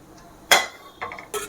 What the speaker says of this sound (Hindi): पहले छोला को एक बर्तन में हम खाली कर लेते हैं इस तरह से